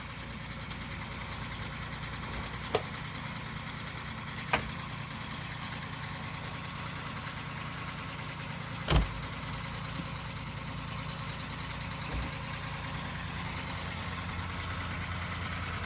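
A 1992 Ford Taurus 3.0 engine idles steadily and evenly for a long stretch, with a few sharp clicks and knocks breaking through now and then.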